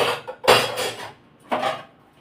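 Steel utensils are lifted and shifted off a kitchen slab in a home, making a couple of loud metallic clatters and clanks close by, with a quieter scrape between them.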